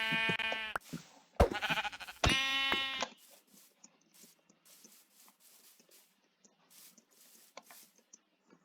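Sheep in Minecraft bleat in a few loud, close, tonal cries early on, followed by quieter pattering hits and small clicks.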